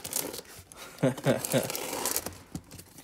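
A mailed package of rocks is torn open with a small screwdriver, producing a few sharp ripping and crinkling bursts of paper and tape at close range, with a voice speaking around them.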